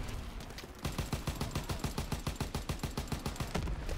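Rapid gunfire from the Call of Duty WW2 game rattles along in a steady, loud automatic burst lasting several seconds, with no talk over it.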